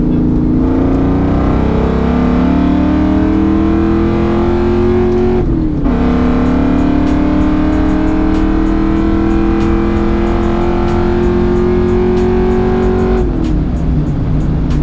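A nitrous-equipped Ford Mustang GT engine revs hard and loud up close, the note climbing steadily, dropping sharply, then climbing again in a long second pull before falling away, with no talking over it.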